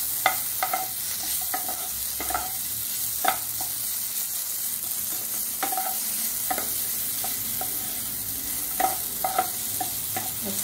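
Pre-boiled potato stirred and fried in ghee, a steady close sizzle broken by repeated scraping clicks of a spoon against the pan at an irregular rhythm.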